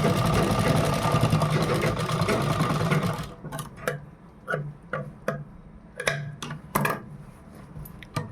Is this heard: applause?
no